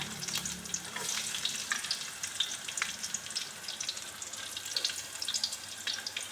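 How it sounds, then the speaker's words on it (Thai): Chilies sizzle in a hot pan, stir-fried with bamboo shoots and chicken offal, giving a steady crackling fry with faint stirring and clinking throughout, fairly quiet and with no talk. "ใส่พริกลงไปค่ะพริกลูกโดดนะคะ"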